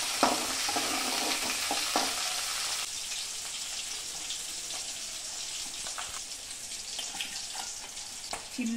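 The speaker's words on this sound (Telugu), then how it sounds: "ఒక గిన్నె పెట్టి అందులో ఆయిల్ పోసి ఆనియన్స్ని ఫ్రై చేసింది" Onions fry in oil in a pot for a small-fish curry, producing a constant hissing sizzle with a few light stirring taps, close and steady with no speech.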